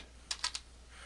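A computer keyboard gives three quick, close key clicks in a short burst while a command is typed, with a faint hum behind them.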